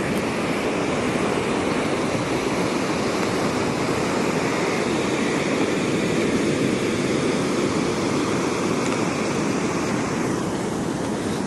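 Ocean surf on Calangute Beach in Goa, India: a steady, loud, unbroken roar of breaking waves fills the whole stretch, with no voices over it.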